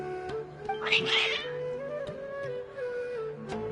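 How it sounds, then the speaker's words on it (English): Agitated cats meow and caterwaul in Genshin Impact, a drawn-out wavering yowl rising loudly near the start and then trailing off over a sustained background tone and game music. "Your cats seem pretty worked up."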